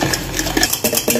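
Cold coffee being whisked until fluffy, a quick run of rapid clinking and sloshing strokes close by.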